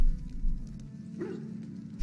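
A dog barks a few times, one bark at the start, a softer whimpering yelp midway and another bark at the end, fairly close over a low background hum with no talk.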